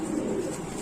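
Pair of Baghdadi homer pigeons, a male and female, giving a soft steady cooing murmur close by, continuous with no clear breaks and no voices over it.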